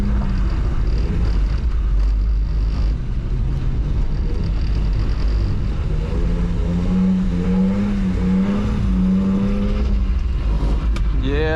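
A BMW E46 320i engine revs steadily and loudly throughout, pitch rising and wavering as the car drifts in the rain, with a brief voice near the start.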